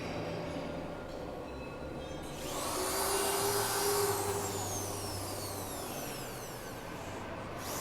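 A sliding door guide rail roll forming machine with 13 rolling stations runs steadily, giving a broad mechanical whir with a swelling hiss and squeal in the middle before settling back to a constant drone.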